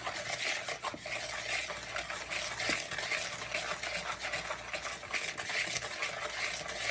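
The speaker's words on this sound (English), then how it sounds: "You need to go ahead and stir that together." Cornbread dry ingredients with sugar and baking soda being stirred together in a bowl, a continuous close scraping and rustling with light utensil clicks, steady throughout with no speech.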